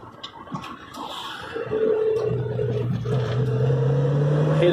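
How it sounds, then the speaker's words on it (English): A Rover P6B 3500S V8 runs while driving, a low steady engine drone building after a moment of clatter and holding a rising hum, close inside the car. "You'd never get sick of listening to that V8."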